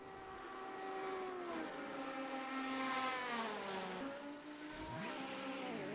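A loud IMSA race car roars past up close at the Spa-Francorchamps circuit, its engine pitch sweeping downward as it goes by, followed by continued engine noise.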